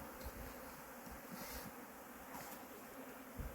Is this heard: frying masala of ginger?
no